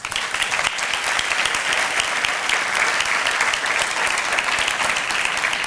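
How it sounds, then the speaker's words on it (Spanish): Strong, continuous audience applause at a business gala in Finestrat, a dense even roar of many hands clapping at constant loudness throughout, with no voices over it. "un fuerte aplauso para Noemí Mira Pascual"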